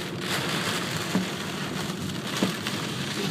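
Golf ball size hail pounding steadily on a car while driving, a dense continuous roar of impacts with a few louder individual hits standing out.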